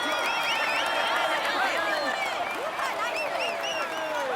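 Crowd applauding and cheering a cyclist on the podium in the Tour de France 2019 video game, a continuous wash of clapping and shouts with whistles over it.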